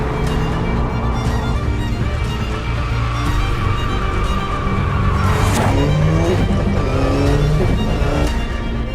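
The all-new 2022 Subaru BRZ sports car drives with a loud, continuous engine drone and tire roar that swells slightly midway, with no voices.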